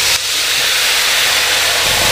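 Water poured into a pan of frying spice paste for tofu and egg opor, giving a loud, steady steamy hiss and sizzle that starts abruptly and carries on unbroken.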